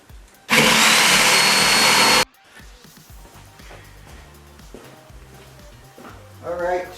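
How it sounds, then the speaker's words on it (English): Power drill boring through a log seat for a log Adirondack chair: a loud, steady whirring burst lasting about two seconds, close by, followed by quieter shuffling and handling noise. "I've drilled the hole through the bottom seat cord and this piece"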